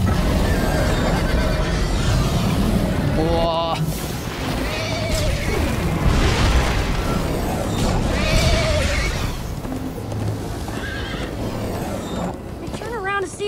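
Horse neighing and galloping in the Minecraft Story Mode video game, with several whinnies over a steady drumming of hooves, mixed with crashes and voices talking over the action.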